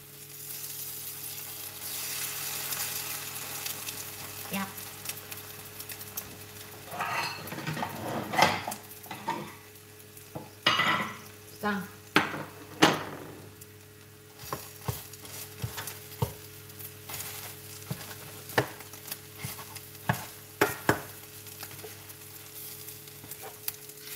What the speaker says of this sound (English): So I'm going to flip the egg.